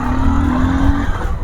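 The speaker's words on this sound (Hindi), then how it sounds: "गियर बॉक्स में से आवाज़ आया कट करके" A car's gearbox grinds during a gear change, heard inside over loud, steady engine and road noise, with a steady whine that cuts off about two-thirds of the way through.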